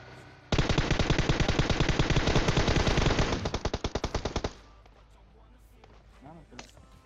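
Rapid automatic gunfire in the video game PUBG Mobile, a long loud sustained burst of dense shots lasting several seconds, then quieter game sounds and faint effects afterwards.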